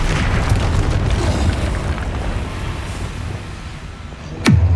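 A Confringo explosion spell from a Harry Potter video game: a steady roaring rumble, then a sharp rising whoosh that ends in a heavy, close boom.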